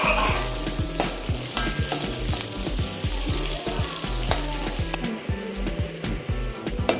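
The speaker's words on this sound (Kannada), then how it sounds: "ಒಂದು ಅರ್ಧ ಹಿಡಿಯಷ್ಟು ಬೆಳ್ಳುಳ್ಳಿ ಹಾಕ್ತಾ ಇದ್ದೀನಿ. ನಾಲ್ಕು ಮೆಣಸು ಹಾಕ್ತಾ ಇದ್ದೀನಿ. ಚೆನ್ನಾಗಿ ಫ್ರೈ ಮಾಡ್ಕೊಳ್ಳೋಣ" Garlic and peppercorns sizzle steadily in a hot pan with a stirring utensil scraping and clicking in a regular rhythm, close and moderately loud, with no voices.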